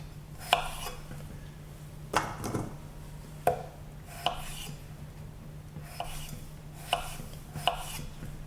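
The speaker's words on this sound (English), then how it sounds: "So I'm just going to cut them into bite-sized chunks." Knife chopping vegetables into bite-sized chunks for a Greek tourlou, heard as about eight distinct, close thuds on a cutting board at an uneven, unhurried pace, with a low steady hum underneath.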